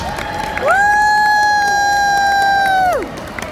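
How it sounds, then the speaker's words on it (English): A fan convention crowd cheers and applauds a guest actor coming on stage, with loud sustained whooping and shouting that rises, holds for a couple of seconds, and drops away, clapping mixed underneath. "Let's give a big round of applause for Butch."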